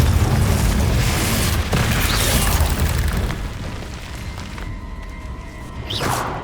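A Confringo fire spell bursts in Hogwarts Legacy, a loud booming explosion that rumbles on for several seconds, then settles into a lower crackling tail with a faint tonal ring near the end.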